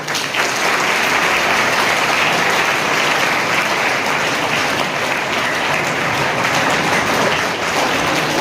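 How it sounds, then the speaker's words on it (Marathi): Sustained, loud applause from an audience at a school elocution competition, clapping continuously and evenly for the ten student participants, two boys and eight girls, with no talk over it. "या सर्व 2 मुलं आणि 8 मुलींसाठी जोरदार टाळ्या वाजवा"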